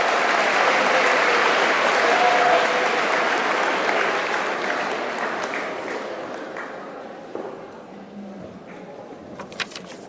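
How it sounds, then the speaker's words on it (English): Audience applause at an 8th grade graduation ceremony fills a room at full strength, then gradually thins and fades toward the end, leaving a few scattered claps. "So let's give her a round of applause."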